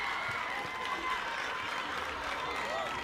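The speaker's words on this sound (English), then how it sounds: "The crowd is happy with that goal." Crowd cheering and applauding after a goal at an international netball match between Antigua and Barbuda and Saint Kitts, a steady distant wash of clapping and voices with a commentator talking over it.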